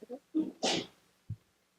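A single sneeze bursts out during a school board meeting, quick and fairly close, followed by a short faint sound before quiet returns.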